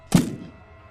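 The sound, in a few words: thump of a boot hitting wooden floorboards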